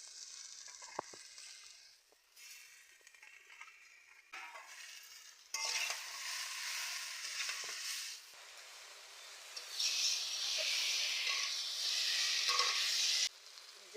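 Chopped water spinach (kalmi shak) dropped into a pan of frying potatoes with turmeric, soft scraping and clinks giving way to a loud bursting sizzle that rises and falls as it is stirred.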